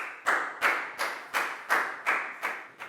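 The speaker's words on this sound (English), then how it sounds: "High five and a big round of applause for Pak Bung" Eight sharp hand claps at a steady, fairly quick rhythm in a classroom, each one crisp and close with a short decay, giving a small round of applause for a student with no talking over it.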